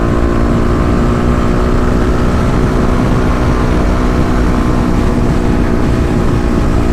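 A Kawasaki KLX250 dual-sport motorcycle with stage 1 mods cruises on a highway. Loud, steady wind roar buffets over a continuous low engine drone, unbroken and close throughout.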